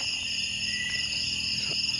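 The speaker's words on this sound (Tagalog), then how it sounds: "Puro kiliglig lang maririnig mo dito." Crickets chirp steadily at night in a continuous high shimmering drone, with low ambient rumble beneath.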